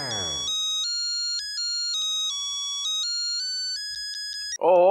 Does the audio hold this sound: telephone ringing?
yes